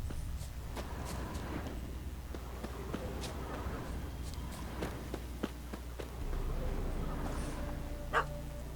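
A dog barks in The Witcher 3 video game. The barks are short, faint and fairly distant, and are heard over steady low game ambience with scattered footsteps.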